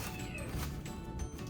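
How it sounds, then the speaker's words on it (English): Pet cats meow in a home kitchen during barbecue rib prep, a brief close cluster of cries over steady background noise. "If you can hear my cats in the background"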